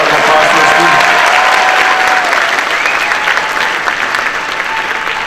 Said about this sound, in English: big round of applause for the students